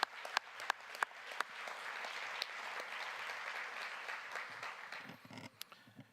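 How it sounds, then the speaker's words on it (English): An audience applauds a panel team at an investiture panel discussion, a few sharp single claps building into steady, moderately distant clapping that thins out near the end. "Let's give them a round of applause,"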